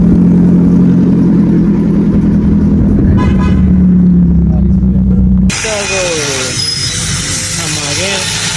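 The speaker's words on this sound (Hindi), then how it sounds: "अभी तो सिलेंसर उतरा हुआ है गाड़ी, इसलिए साउंड बड़ा गंदा दे रही है।" Toyota Altis with its silencer removed, running on straight piping: a loud, rough, droning exhaust note holds steady at first, then cuts out abruptly and gives way to quieter, thinner noise and brief tones.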